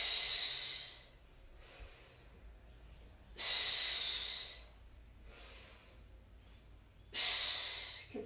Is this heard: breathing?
yes